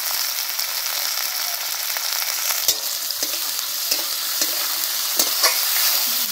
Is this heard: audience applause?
no